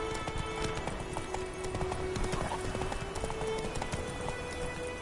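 Roach, Geralt's horse in The Witcher 3, trotting with a steady rhythmic clip-clop of hooves, close and clear, over a soft background ambience.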